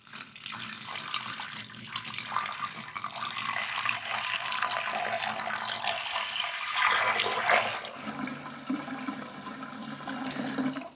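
Three liters of water poured onto finely ground azurite pigment and swirled, a steady close rushing and splashing that shifts tone partway through, with no voices.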